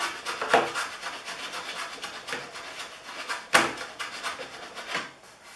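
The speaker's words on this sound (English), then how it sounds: "Can't do the planing if the piece is moving." Wood hand plane trimming Kreg jig dowel plugs flush on a clamped workpiece, several distinct scraping strokes spaced about a second apart, close and fairly quiet with no talk.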